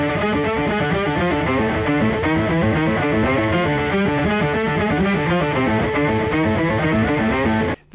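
Electric bass played through a POG pedal set two octaves up plus distortion gives a thick, buzzing organ-like tone; a steady riff of rhythmic notes runs loud and continuous with no talking, stopping abruptly at the very end.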